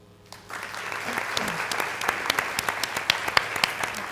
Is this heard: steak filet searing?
no